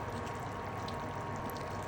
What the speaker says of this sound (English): Now you're going to add the water, which is going to help cook the ingredients